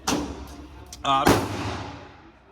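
Two sharp, loud reports from a Springfield Armory 1911 pistol in 10mm, fired outdoors, each shot ringing out and fading, with a brief spoken voice between them.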